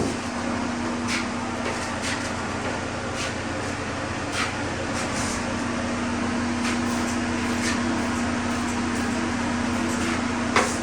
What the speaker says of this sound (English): we have the fan going, so the fan is going to try to dry it